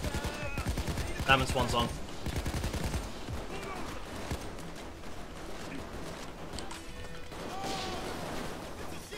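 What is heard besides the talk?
shotgun gunfire in the video game Payday 2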